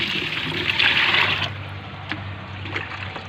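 Water pours and trickles steadily into a container while being mixed with a spoonful of fertilizer for bougainvillea, loud and close for the first second and a half, then quieter sloshing with low rumble beneath, no talk.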